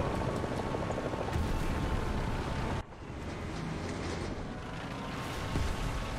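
Helicopter rotor drone in the War Thunder ground forces battle game, a steady broad rumble with a brief dip midway before the noise continues.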